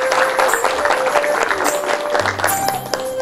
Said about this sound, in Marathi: एकदा जोरदार टाळ्या होऊन जाऊ देत सानिकासाठी.